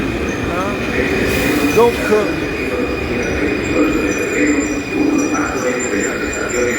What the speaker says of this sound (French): Le métro arrive